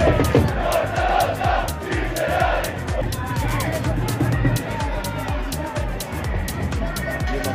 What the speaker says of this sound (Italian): Partita subito fortissima. Gran tifo.